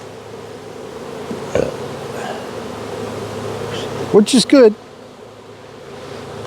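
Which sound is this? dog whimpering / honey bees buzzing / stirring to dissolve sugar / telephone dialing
honey bees buzzing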